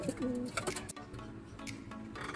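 Racing pigeons cooing softly in a loft before a training toss, with a few short low coos near the start over steady background noise.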